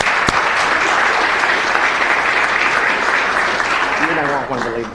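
Audience applause fills a city council and housing authority meeting chamber, a steady, dense wash of clapping from many hands that continues throughout before a voice starts speaking near the end.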